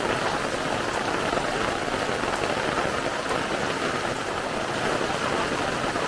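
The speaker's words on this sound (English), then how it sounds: "Rain." Steady heavy rain pours down during a rainstorm on a forest trail, a dense continuous hiss of drops hitting leaves and ground, loud and close with no break throughout.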